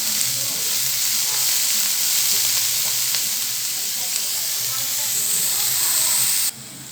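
Steady loud sizzling of onions and ginger sautéing in a pan, a constant hiss with faint stirring scrapes, cutting off abruptly near the end.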